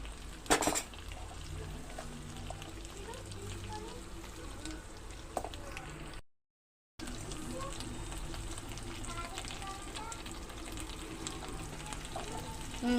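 Taro root (colocasia) cooking in oil in a pan for an egg curry, seasoned with salt and turmeric; a steady, soft frying sizzle runs throughout with a brief clatter near the start and a short gap midway.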